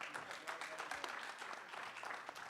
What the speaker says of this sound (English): let's give them another round of clap